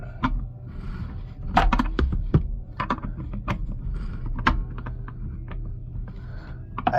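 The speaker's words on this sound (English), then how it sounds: "Then we're going to tighten, tighten our jam nut back up." Wrench work tightening a nut or bolt on a Brunswick GSX bowling pinsetter during a pin spotting adjustment: a close series of irregular metallic clicks and taps over a low mechanical hum.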